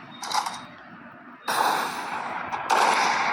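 Gunfire in a shooting video game, brief bursts of shots: a short burst, a pause, then louder sustained firing with another burst near the end.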